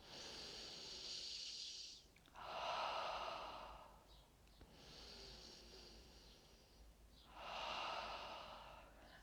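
Slow, soft breaths during seated chair yoga: long inhales through the nose alternate with airy exhales out through the mouth, two full cycles, close and gentle with no talking.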